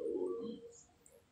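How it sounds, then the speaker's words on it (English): Birds call outdoors in a quiet spot with wind blowing: a low, soft dove-like cooing dominates the first half, with a couple of faint high chirps later against steady background hiss. "a little bit of ASMR, background noise, birds chirping"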